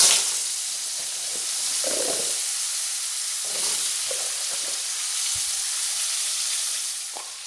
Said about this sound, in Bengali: এবার ওতে দিয়ে দেব আলু।